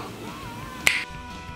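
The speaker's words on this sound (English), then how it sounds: "So I'm going to snap my fingers real quick" A single sharp finger snap, close and crisp, stands out against quiet background hum.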